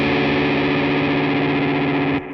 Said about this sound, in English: we've got the EarthQuaker hoof pedal, which is my fuzz